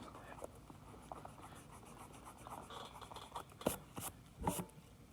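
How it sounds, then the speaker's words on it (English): Pencil lightly sketching an old fishing lure, soft scratchy strokes in short irregular bursts, close and quiet, with a few sharper scrapes near the end. "So I'll just kind of walk you guys through drawing an old fishing lure."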